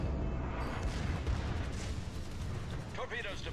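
Warship main guns fire shells in World of Warships naval combat, heavy booming blasts rolling over a constant low rumble, with a voice talking briefly near the end.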